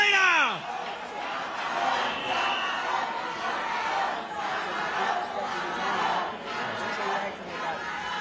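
A crowd at a boxing weigh-in cheers and shouts loudly and steadily for the challenger, with applause-like roar sustained throughout.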